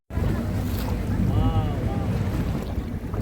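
Boat ride on clear blue sea off Vengurla on the Konkan coast, with a continuous rumbling engine drone, rushing water and heavy wind buffeting the microphone.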